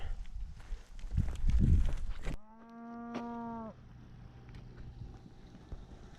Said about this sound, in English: Got some pretty good looking cows this year.